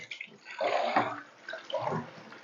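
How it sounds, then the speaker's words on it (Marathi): Water splashes and gurgles into a cooking pot in a couple of surges, fairly close, with no one speaking. "पातेल्यामध्ये पाणी वतून ठेवते"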